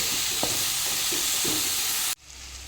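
Cut pieces of sandu vine frying in a hot pan give a steady loud sizzle with a few soft stirring scrapes before the sound cuts off abruptly near the end.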